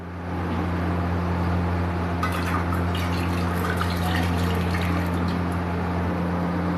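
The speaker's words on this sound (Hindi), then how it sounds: "अब इस बर्तन में डालेंगे 2 कप पानी।" Water poured into a cooking pot for a homemade Rooh Afza syrup recipe, a continuous splashing pour over a steady low mechanical hum, close and fairly loud.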